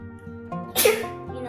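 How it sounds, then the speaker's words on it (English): A single sharp sneeze set off by pepper while making a sandwich bursts out, loud and close, over a steady low hum with faint background sounds. "I kind of sneeze when I am in contact with pepper"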